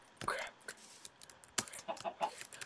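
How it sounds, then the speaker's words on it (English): Chickens clucking in a Minecraft game, short bursts of game fowl sounds scattered over a few seconds, fairly faint with a louder click-like hit midway. "Oh, chickens."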